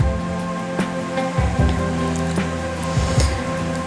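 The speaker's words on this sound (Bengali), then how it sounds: "এখন এই তেলে দিয়ে দেবো পেস্ট কুচি আর 1 চা চামচ রসুন কুচি।" Chopped onion and garlic fry in hot oil, a steady close crackle and sizzle with occasional sharper pops and light clinks, no talking.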